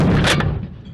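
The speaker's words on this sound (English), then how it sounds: "all the concussion of that 50 cal is just coming back at you" A .50 caliber rifle fitted with a muzzle brake fires one loud, close, broadband blast whose heavy concussion rolls off into a rumbling decay over about a second.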